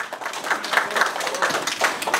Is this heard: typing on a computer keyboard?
no